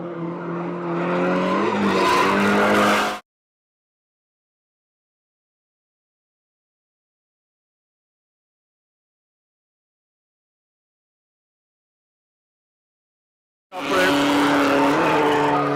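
Drift cars at a Valley Drift Club event, a Nissan 240SX followed by a BMW, loud sustained tire squeal and engine noise in two bursts separated by a long stretch of silence.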